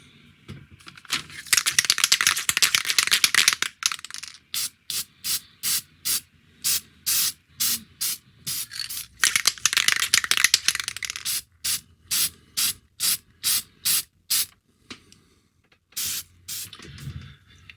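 Repeated bursts of spray paint laid on as another coat over scale model parts for a 1:1000 Star Trek U.S.S. Enterprise, starting with two long hissing sprays, then a steady run of short, evenly spaced puffs, close and loud.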